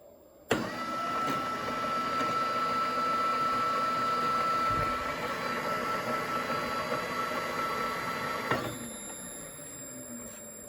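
A BMW 530e electric drive module, the same unit used in the 330e, spins up on throttle during its first bench run: a steady, loud mechanical whine with a bright tonal edge that holds for about eight seconds, then cuts off.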